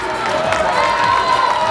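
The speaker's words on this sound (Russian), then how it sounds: "Овации зрительного зала." An audience at a Pro-Am Latin ballroom dance competition in Kiev, 2012, applauding and cheering in a steady, loud wash of crowd noise with a musical tone running underneath.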